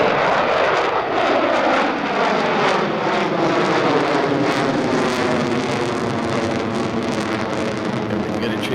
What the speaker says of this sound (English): They are dirtied up, flying this FA-18 Super Hornet into a loop. It gives you an idea of how much power these engines have.